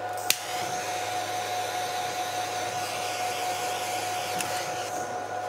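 A hot air tool blows steadily and close while heating heat-shrink on a homemade charge and balance lead for a LiPo drone battery, a constant whooshing hum with a sharp click at the start.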